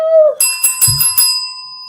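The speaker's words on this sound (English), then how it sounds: "Where is my bell?" A bicycle-style bell rings sharply several times in quick succession, bright and close, its metallic tone lingering and fading after a brief whistle-like sound.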